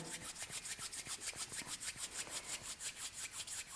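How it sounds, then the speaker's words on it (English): Palms rubbing briskly together up close in a steady back-and-forth rhythm, each stroke a soft dry swish, about four per second, with no voice. "bringing the palms together, rubbing the hands"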